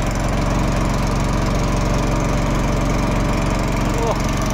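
A motorboat engine on a river trip near Benaras chugs steadily after starting, a loud close continuous putter with a rough, even rhythm that never drops away.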